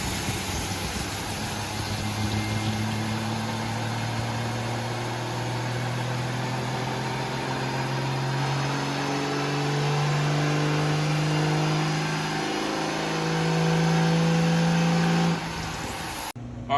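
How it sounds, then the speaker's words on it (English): An engine fitted with an HE351 turbo and nitrous revs hard on the throttle, a loud sustained roar that climbs in pitch as boost builds, then cuts off abruptly near the end. "I stab the throttle at the start of the window, the boost goes up, and then the wastegate opens"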